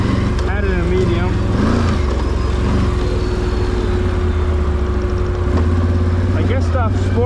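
A Can-Am Renegade 1000 ATV engine hums and rumbles steadily while riding, close and fairly loud, with a brief swell in revs near the end.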